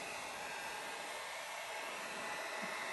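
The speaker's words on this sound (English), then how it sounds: "Get out my trusty little heat gun here and let's see what happens." A handheld heat gun blows hot air onto a Schumacher battery clamp during repair, giving a steady, close, unbroken whoosh of airflow with a broad hiss that holds level for the whole stretch.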